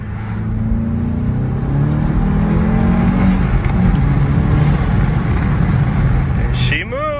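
A Volkswagen MK7 GTI tuned to Stage 1 with an upgraded intake pulls hard under acceleration, its engine and intake droning loudly from inside the cabin with rising tones that climb again near the end.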